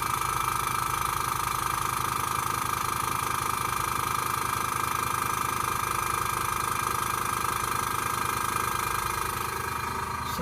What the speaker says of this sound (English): there's the airbrush compressor kicking in.